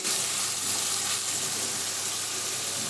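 Onions fry in a pan over medium-low flame, giving a steady, even sizzle and hiss that stays close and constant throughout with no talking.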